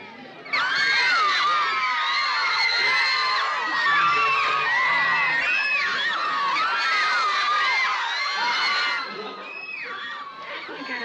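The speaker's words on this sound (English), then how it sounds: "How can you tell with all that screaming?" Large crowd screaming, cheering and whooping continuously at a sitcom public appearance, dense and loud throughout before easing slightly near the end, with many high excited voices.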